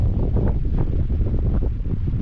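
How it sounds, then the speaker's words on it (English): Strong wind buffets an outdoor microphone beside a Cadillac BLS 2.8 V6 Turbo during brake work, a loud, continuous low rumble with gusty swells and no voice. "Apologise for the wind."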